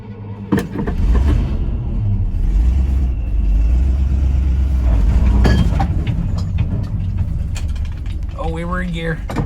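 The engine of a Chevy C60 truck cranks and catches after choke is applied, then runs as a loud, rough low rumble. A voice cuts in near the end.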